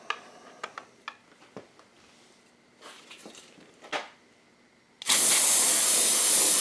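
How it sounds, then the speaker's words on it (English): A can of brake cleaner sprays loudly onto a metal vise, a sudden, steady, close hiss that bursts in after a run of small clicks and clunks and holds to the end. "I sprayed it off with brake clean"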